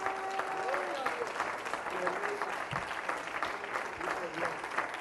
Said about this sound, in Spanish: Denle un aplauso bien fuerte,